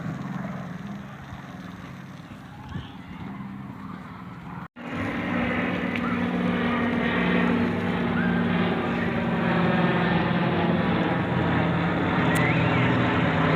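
F-18 Growler military jets pass overhead, their roar swelling after a brief cut and building into a loud, sustained rumble that holds to the end.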